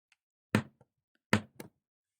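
Knocking that imitates a woodpecker pecking, in a kindergarten counting game: two close, sharp knocks, each followed by a softer rebound tap, with silence around them.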